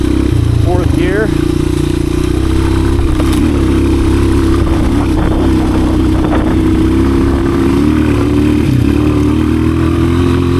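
A 1986 Honda XR200R dirt bike riding in fourth gear, its engine droning loudly and steadily up close with slight rises in pitch and wind rumble throughout.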